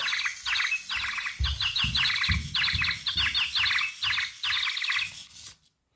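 A toy bird activated by taps on its head plays bursts of bright electronic chirps and tweets in a fast rhythmic pattern, close and loud, stopping abruptly at the end.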